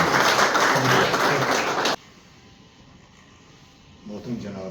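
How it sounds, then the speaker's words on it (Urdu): Audience applause welcoming a guest speaker at a seminar on the ombudsman system, loud, dense clapping for about two seconds that then cuts off abruptly into quiet room tone, with faint voices returning near the end. "تو آپ لوگوں کی بھرپور تالیوں میں جناب محمد صدیق صاحب تشریف لائیں۔"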